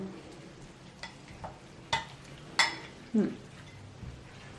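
Chicken noodle soup with braised chicken being stirred in a bowl: a few sparse, quiet clinks and scrapes of the utensil against the bowl, close by, with no talking.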